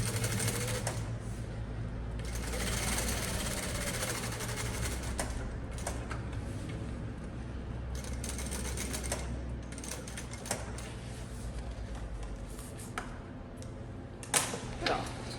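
A sewing machine stitches a backpack strap with a structural stiffener behind it, a close, steady mechanical whir running almost continuously with brief pauses, joined by a few clicks and bumps near the end.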